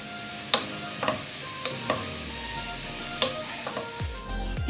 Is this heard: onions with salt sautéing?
yes